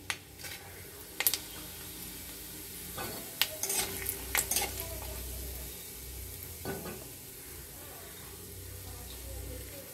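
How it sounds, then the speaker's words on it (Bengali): Whole cumin seeds sizzling in hot oil for tempering, a steady soft frying hiss with a few sharp clinks and taps of a utensil against the pan early on, fairly faint and close. "এবার আমি গোটা জিরে দিয়ে দিচ্ছি ফোড়নে"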